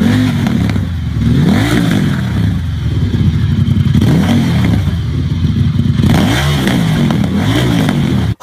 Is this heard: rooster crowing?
no